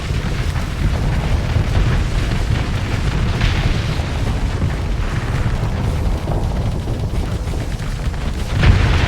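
Ships blowing up during large-scale fleet combat in the space game Starsector: a dense, continuous wall of loud low-end explosions and rumbling blasts, with scattered bursts and a final heavy boom near the end.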